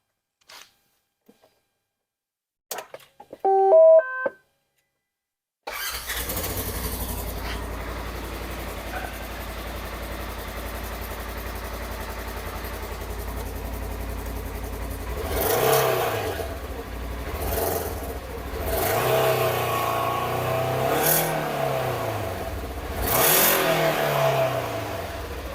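A Polaris General XP side-by-side fitted with an HMF aftermarket exhaust cranks with a few starter clicks, then settles into a loud, close idle broken by three rising and falling throttle revs.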